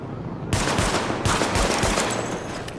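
Rapid, dense gunfire from a weapon test at highlighted targets in the video game The Division, a continuous burst of overlapping shots lasting a few seconds, loud and close with no pauses.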